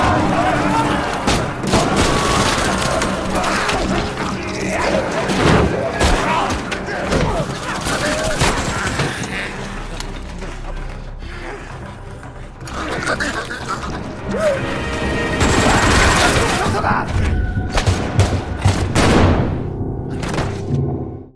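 Gunfire in a zombie film scene, with bursts of shots, thuds and mechanical clatter running throughout at high volume, broken up by short pauses and mixed with dramatic score and voices.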